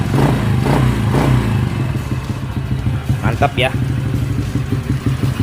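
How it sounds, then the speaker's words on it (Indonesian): A Honda Supra Fit motorcycle engine with a newly rebored RVN block runs close by at a steady idle with a few light revs, while someone talks over it. "Untuk suara mesin dia halus ya, dia halus dan enak ya, bagus."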